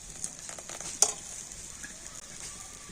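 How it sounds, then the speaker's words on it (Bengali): Rice batter poured into a hot kadai sizzles softly and steadily. A single sharp clink of utensil on pan comes near the one-second mark, and the sizzle continues faint and close without talk. "আর আবার আমি 1 হাতা ব্যাটার নিয়ে একদম মাঝখানে এরকম এক জায়গায় এইভাবে ফেলে দিতে হবে।"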